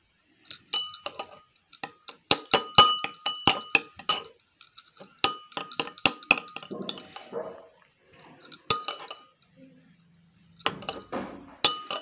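A homemade children's cough remedy is stirred in a glass with a spoon, giving bursts of bright clinking and tapping against the sides, close and fairly loud, with short pauses between rounds of stirring.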